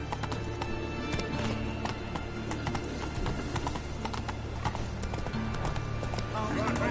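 Roach, a horse in The Witcher: Wild Hunt, gallops with continuous, busy hoofbeats mixed with game music and voices, the clatter steady and fairly close throughout.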